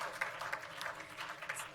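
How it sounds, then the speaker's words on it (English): Applause from an audience at a university conference panel, a faint, steady patter of many hands clapping heard from a distance with no voices on top. "can we give a round of applause to Touch Road, Higher Life Foundation"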